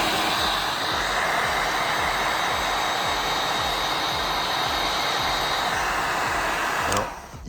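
A heat gun blows hot air onto faded plastic car trim, a loud steady whooshing hiss that continues evenly for several seconds before cutting off abruptly near the end.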